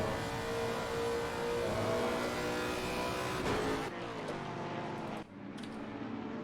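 GT race cars, including a Porsche 911, lapping the Nürburgring in a racing video game, a continuous engine whine that drops off abruptly partway, then thinner engine noise carries on.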